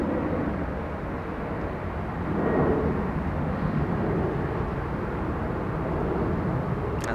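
Air Force 2 jet approaching Los Angeles International Airport to land on runway 24 left, a steady broad distant roar that swells slightly midway and holds, with no voices.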